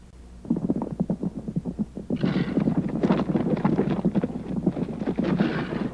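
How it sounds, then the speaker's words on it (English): Horses at a stream on a South Dakota reservation, a busy mix of splashing, hoof clatter and rustling in uneven bursts, fairly close and continuous. "Here, horses drink from a stream on a reservation in South Dakota."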